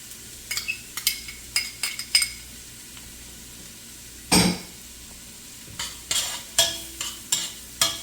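Garlic fries in a pan under a low sizzle while a utensil stirs and scrapes, giving a dozen or so sharp clinks and knocks at irregular intervals.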